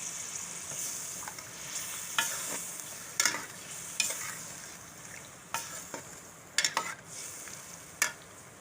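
Garlic-ginger paste sizzles steadily in a pan while a spoon scrapes and stirs, producing scattered sharp clicks over the constant frying hiss.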